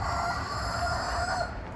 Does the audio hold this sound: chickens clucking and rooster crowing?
yes